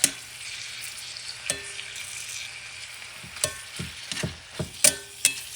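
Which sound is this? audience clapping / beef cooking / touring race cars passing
beef cooking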